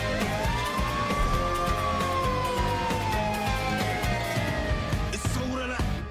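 Ambulance siren wailing in a long rising-and-falling sweep, loud and continuous over dense, busy Egyptian protest-song backing, with the swell fading toward the end.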